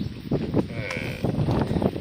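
A small calf bleats once in a short, wavering call amid livestock at a family farm, heard close over low background noise.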